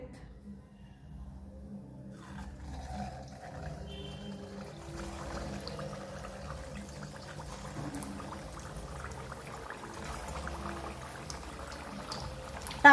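Semolina and potato medu vadas frying in hot oil give a steady, soft bubbling hiss. It holds close and even throughout with no talk, and the sizzle grows a little fuller partway through.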